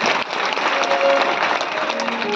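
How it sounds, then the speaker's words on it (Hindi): A gathered audience at a religious discourse breaks into loud, dense applause. The clapping is steady and close for a couple of seconds, with no talk over it. "ताली बजाओ इसका माता।"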